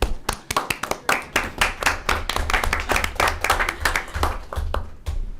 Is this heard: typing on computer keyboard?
no